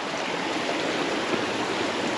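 A mountain creek in a Utah slot canyon flows in a steady, close, evenly rushing wash of water, with no one talking.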